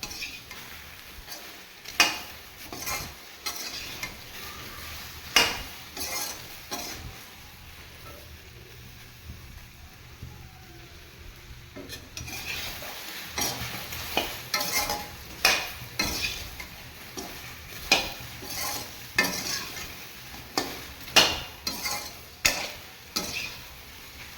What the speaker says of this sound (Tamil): இது வந்து அலுமினியம் சட்டியில் வதக்கிறது இன்னும் கொஞ்சம் கவனமாக செய்யணும்